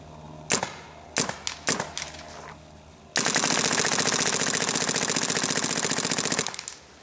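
A Bob Long G6R paintball marker, a 2011 or 2012 model with its hopper switched on, fires a few separate shots and then lets go a dense, very fast stream of loud, close pops for about three seconds.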